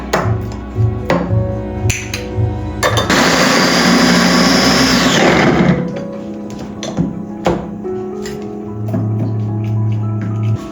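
An electric blender grinds Thai red curry paste in a loud, steady roar for about three seconds, set between quieter clinks and kitchen handling sounds, with a low hum running near the end.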